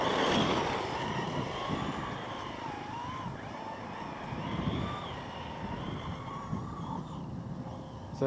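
An HPI Baja 5SC Flux, a fifth-scale electric RC truck converted to electric power, accelerating gently with a steady whirring drive over broad outdoor wind noise, fairly continuous at moderate loudness with slight pitch wobbles.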